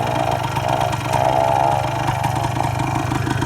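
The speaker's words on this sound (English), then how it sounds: "Someone's got a thumper out there." A restored 1977 Suzuki PE250 single-cylinder two-stroke motorcycle engine runs steadily at a fast, even throbbing beat, loud and close, with no talk.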